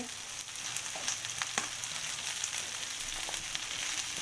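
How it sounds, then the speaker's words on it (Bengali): Green capsicum frying in a pan for chilli chicken, a steady close hiss of oil with scattered light pops and crackles. "আমি এগুলো একটু ভেজে নিচ্ছি তো আমি এখানে সবুজ ক্যাপসিকাম দিয়ে দিচ্ছি"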